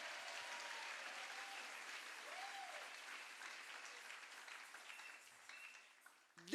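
A church congregation applauds God in sustained, dense clapping. The applause is fairly distant and gradually fades near the end, with faint voices mixed in.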